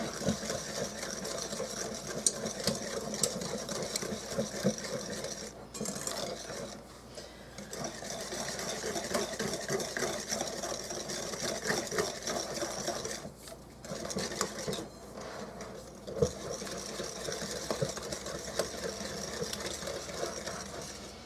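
An electric hand mixer whirs steadily through thick peanut butter brownie batter, a continuous close motorized hum with slight rhythmic rattling that drops out briefly a few times.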